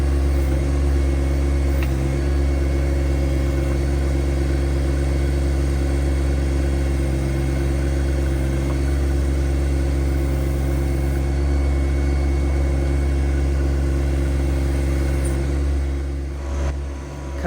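A small tractor engine runs steadily at constant speed during residential tree clearing, a loud, close, unbroken drone with a low hum and no talk, easing slightly only at the very end.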